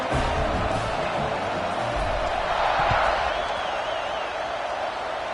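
A packed football stadium crowd cheers as the team lines up for a kickoff, a steady loud roar that swells slightly midway, with a commentator talking over it.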